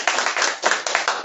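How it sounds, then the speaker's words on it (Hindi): A small audience at a college ceremony claps to welcome a second-year topper student, brisk steady hand claps close by for just over a second. "आप सभी से निवेदन है कि इनका ताली से स्वागत किया जाए।"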